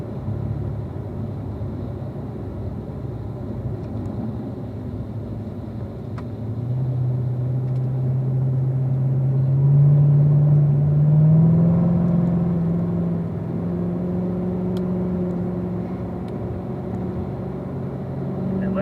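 A car rounds a corner on the Ron Fellows race track with a steady engine drone, then accelerates out with a rising tone that swells and fades back to a cruising hum.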